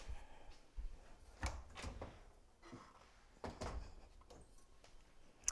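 A kitchen oven door being opened to take out warmed tortillas while eggs cook nearby, with faint clunks and a soft rattle, a couple of louder bumps and a sliding scrape in a quiet room.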